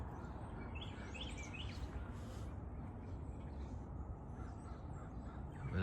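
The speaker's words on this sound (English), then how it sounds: "the birds are active. You can hear them singing" Morning birds calling outdoors, several faint caws and chirps over a steady broadband background hiss, with no talk.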